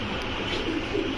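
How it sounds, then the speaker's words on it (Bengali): A male pigeon at a pigeon market coos in a low, steady murmur, with a brief burst near the end over constant background noise. No one speaks. "এটা নর কবুতর"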